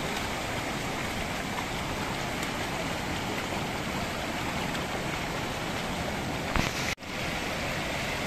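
Water pours down at Shirvane waterfall in Nerul, Navi Mumbai, making a steady, dense rushing roar that fills the whole clip without letup, with one brief dip near the end.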